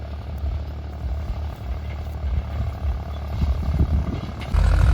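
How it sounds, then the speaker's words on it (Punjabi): A low, rumbling Farmtrac 60 tractor engine runs steadily throughout, growing slightly louder near the end. "ਆਵਾਜ਼ ਸੁਣੋ ਟਰੈਕਟਰ ਦੀ ਕਿੰਨੀ ਘੈਂਟ ਆ"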